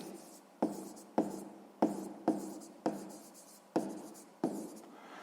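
Pen strokes on paper while working a sixth-grade math exercise: about eight distinct scratchy strokes, each starting with a sharp attack and trailing off, spaced in a steady rhythm, close and fairly quiet in an otherwise silent room.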